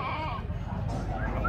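A goat bleats at a livestock market in Trenggalek, a short wavering cry heard close amid market chatter and voices speaking over it.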